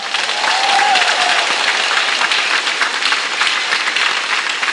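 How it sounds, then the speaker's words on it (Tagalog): Loud applause from a church congregation at an El Shaddai gathering, a dense, sustained clatter of many hands that carries on evenly throughout. "Yung palakpak niyong malakas"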